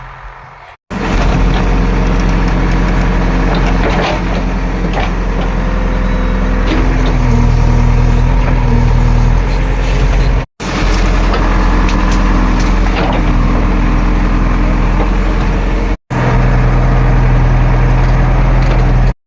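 A JCB excavator's diesel engine works in a farm field where a large tree is being uprooted, a loud steady heavy-machinery drone running continuously with brief cuts.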